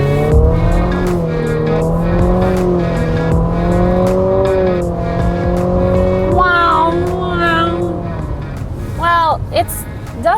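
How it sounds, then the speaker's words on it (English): A 2020 Infiniti QX50 Autograph AWD accelerates hard from a stop, its engine a steady loud drone that swells and shifts pitch, with a voice talking over the latter part. "I always like to see how quickly I can pull out without the cars behind me catching up"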